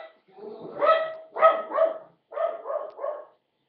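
A dog barks in a series of six or seven sharp, close, loud barks in quick bursts with short pauses, heard at a busy comic convention in New York.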